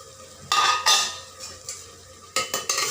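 A utensil stirs handi mutton in a pot: several sharp scraping strokes come in uneven bursts, close and fairly loud, with quiet gaps between them and no talking.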